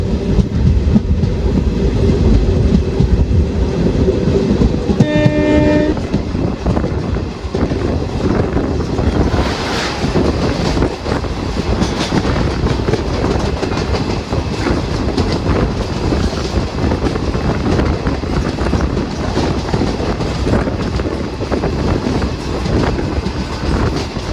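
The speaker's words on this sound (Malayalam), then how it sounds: "വഞ്ചിനാട് ഇപ്പം അങ്ങോട്ടേക്ക് ക്രോസ് ചെയ്തിട്ട് പോയി" The Vanchinad Express rushes through Ochira railway station, a loud continuous rumble and clatter of wheels on rails with heavy wind buffeting the microphone and a brief horn-like tone early on, close by and sustained throughout.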